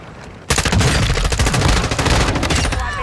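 Video game combat bursts into loud rapid gunfire after a brief quieter lead-in, with a Semtex grenade blast amid dense overlapping shots and automatic fire that continue to the end.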